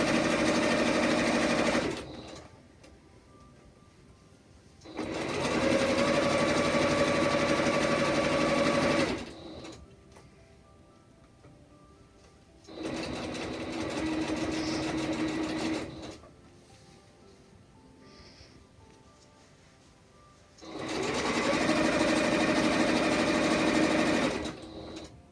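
A sewing machine stitches a fabric face mask in four bursts of several seconds each, separated by quiet pauses, running steadily and fairly close with no talking.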